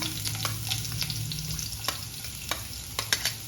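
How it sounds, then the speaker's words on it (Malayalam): Garlic dropped into hot oil with cumin seeds sizzles and crackles steadily, with sharp pops and clicks of stirring scattered through, close up and with no voices. "ജീരകം മൂത്ത് വന്നിട്ട് അതിലേക്ക് വെളുത്തുള്ളി ഇട്ട് കൊടുക്കാം"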